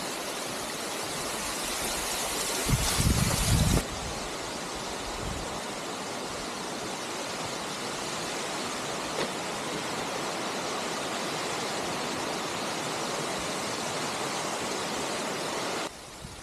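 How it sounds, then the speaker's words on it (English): Deep waterfalls along the Levada das 25 Fontes on Madeira, a dense, steady roar of falling water that stays constant throughout. "Finally, deep waterfalls."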